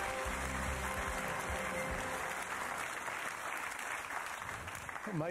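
Studio audience applauding on a British quiz show after contestants win a cash prize, a steady dense wash of clapping throughout, with a faint voice near the end.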